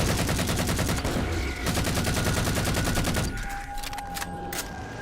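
Loud, rapid automatic fire from a gun in Halo 4 rattles continuously for about three seconds, then gives way to a few sparser, isolated shots.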